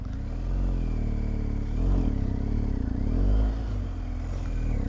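A BMW 1250 GSA motorcycle engine hums steadily while riding through jammed traffic near Leh, with low, continuous engine drone that swells briefly under light throttle and settles again.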